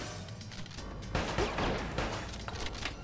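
Gunfire from the Bad Boys Miami Takedown shooter game comes as a rapid burst of fairly quiet shots and clattering impacts, with a louder cluster of shots in the middle.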